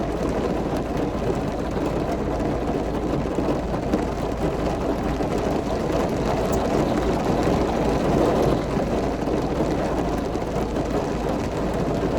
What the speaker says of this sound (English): This rain is crazy.